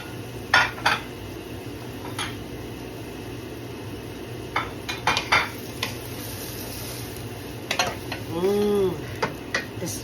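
Pots and utensils clatter in a home kitchen as diced tomatoes go into a pot of braising pork ribs, with scattered clinks and knocks over a steady low simmer and a brief scraping stir near the end.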